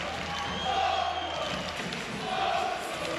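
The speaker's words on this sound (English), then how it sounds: "The arena is full, the crowd are loud" A full arena crowd roars at a women's EuroLeague basketball final between Fenerbahce and Mersin, a loud, continuous wash of crowd noise with swells of cheering.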